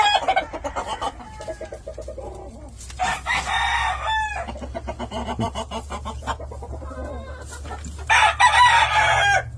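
Roosters crow loudly over steady clucking from several chickens, with repeated calls overlapping throughout; a busy, close-up farmyard scene with no talking.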